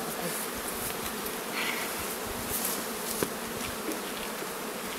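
A dense, steady hum of honey bees swarming around an open beehive, close and continuous with a few bees darting past.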